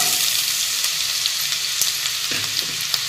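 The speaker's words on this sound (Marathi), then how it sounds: "मसाले छान तुपामध्ये परतले की यामध्ये आपल्याला बारीक चिरलेला कांदा घालायचा आहे" Finely chopped onion frying in ghee with a steady, close hiss and sizzle, broken by a few soft stirring scrapes, with no speech.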